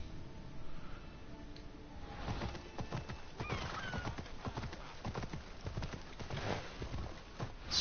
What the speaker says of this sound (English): See how well the horse manages to get through here.